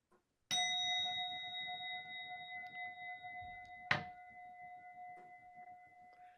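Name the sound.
meditation gong being rung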